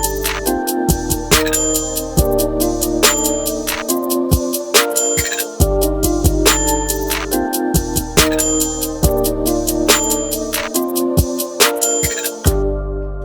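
Hip-hop beat with booming 808 bass, punchy kicks, open hi-hats and layered melodies loops in a steady repeating pattern, loud and upfront with no voices.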